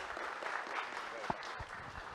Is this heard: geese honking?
no